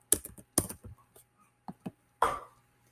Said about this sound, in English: Just type in the name of a crop.